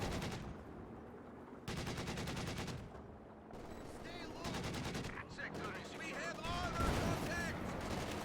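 Rattling infantry gunfire and heavy tank shots in a Company of Heroes 2 1v1 match with P4 tanks, loud bursts repeating in quick volleys while a commentator talks over the battle.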